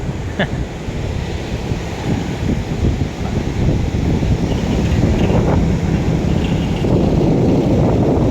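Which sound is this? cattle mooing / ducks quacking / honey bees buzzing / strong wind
strong wind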